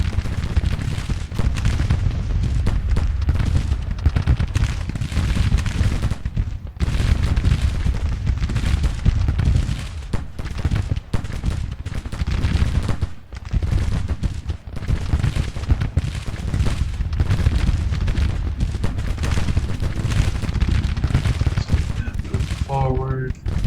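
Civil War battle in the Grand Tactician strategy game: dense, nonstop musket volleys and rolling artillery fire. It stays loud for the whole stretch, with a few brief lulls.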